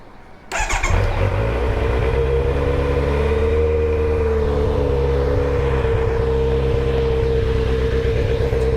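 Kawasaki Z900 motorcycle engine running with its exhaust removed, starting abruptly and then holding a loud, raw, steady idle with a rough buzzing tone, close up.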